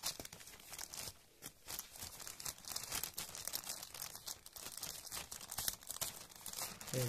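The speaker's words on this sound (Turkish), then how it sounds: "Şöyle kargomuzun poşetini açmaya çalışacağım arkadaşlar ilk başta." A plastic cargo shipping bag is torn open by hand, continuous close crinkling and ripping of thin plastic with sharp crackles throughout, fairly faint overall and without talking.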